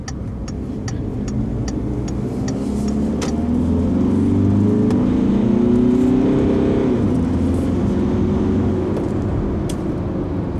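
A 2017 Citroën Spacetourer 2.0-litre diesel van engine hums steadily from inside the cabin, rising slightly as it accelerates on a small road, with road rumble and a few faint clicks.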